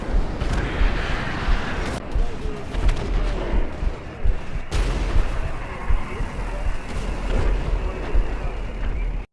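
Gunfire rattles through a GTA V roleplay battle near Sandy Shore, with dense booming shots and bursts over constant rumbling noise, loud and close, while voices talk at times.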